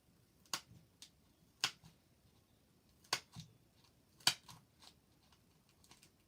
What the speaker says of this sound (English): So now the scissor cut's gone all the way through